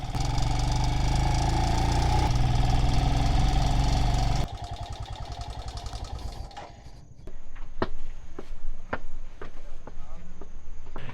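A motorcycle climbs a small path in Vietnam's Hà Giang region, its engine droning loud and steady at first, then dropping to a lower rumble with scattered sharp clicks and knocks as the ride continues.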